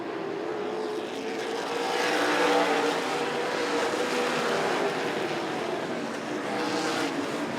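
Late model race cars race at Rockford Speedway, heard as a loud, continuous roar of engines that swells as the pack passes, with no voices.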